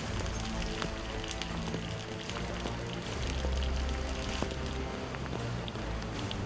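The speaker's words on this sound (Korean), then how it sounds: "갑작스런 비에 분주해진 작업자들." Sudden rain falling on an outdoor garden construction site, a soft continuous patter of drops with scattered sharper ticks on surfaces, fairly faint and steady throughout.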